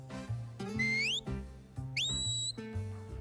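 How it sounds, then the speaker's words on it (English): A sheepdog handler's herding whistle gives the right-hand command to a border collie, in two loud, close bursts of rising, warbling pitch over steady low background, with no talk. "And then you progress up to whistles."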